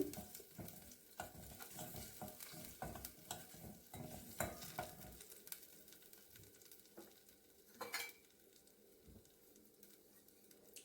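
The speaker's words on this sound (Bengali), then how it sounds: "নাড়িয়ে এটাকে ভালোভাবে ভেজে নিচ্ছি" Ghugni spices with ginger paste fried and stirred in a pan, a soft sizzle under repeated scraping strokes of a spoon, busy for the first half, then quieter with occasional scrapes and clinks.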